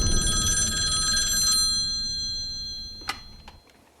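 An old-style telephone bell rings loudly for a short burst, and the ring fades away, followed by a couple of faint clinks in a quiet room.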